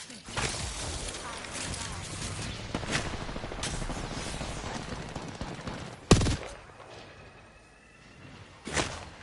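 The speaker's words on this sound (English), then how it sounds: "Spam bots are shooting at me" Repeated video-game gunfire from enemy bots crackles in bursts with several sharp loud shots, alongside busy game noise and a talking voice.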